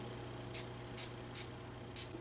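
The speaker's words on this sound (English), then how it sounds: "I'm going to spray that one over here in the inside of this arm." Cuba Gold cologne is sprayed onto the inside of an arm in four short, evenly spaced hissing bursts over a steady low background hum.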